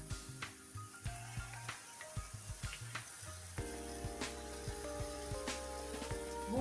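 Jujubes simmering in a pan with melted jaggery for sweet pickle, giving a steady close sizzle with stirring clatter and scraping throughout, growing denser partway through.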